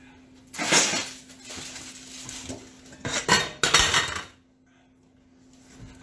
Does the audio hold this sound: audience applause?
no